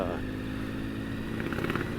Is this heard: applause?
no